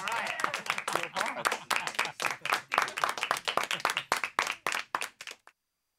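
An audience claps after a card trick, a close, lively burst of individual claps that builds, then stops abruptly near the end, with a voice heard briefly at the start.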